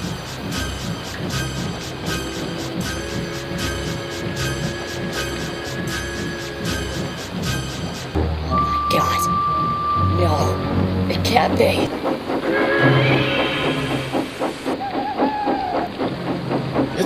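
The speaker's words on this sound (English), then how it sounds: "I'm absolutely getting drenched and soaked here in this rain" Steady rain hisses throughout under music, then a deep rumble of thunder rolls in as a voice speaks briefly.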